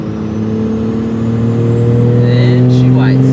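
A Cummins diesel truck fitted with a new S472 turbo revs hard, the engine drone rising with a growing turbo whine as it spools up, loud and close, with a voice briefly in the background.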